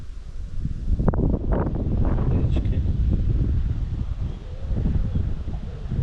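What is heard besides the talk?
wind blowing on a riverbank while fishing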